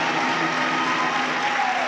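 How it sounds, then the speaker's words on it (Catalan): A street crowd at the Sant Pere festival in Reus claps for human towers, producing dense, continuous applause that stays loud and even throughout. "Aplaudiments del carrer de la festa, és clar que sí."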